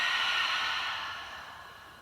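A deep exhale through an open mouth during a yoga breathing exercise, a single long breathy rush of air that starts strong and slowly fades over about two seconds, close and alone.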